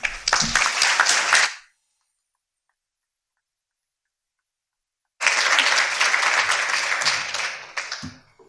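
An audience at a patient panel session claps in two bursts: a dense patter that fades out, a few seconds of total silence, then a second round of steady clapping that thins toward the end.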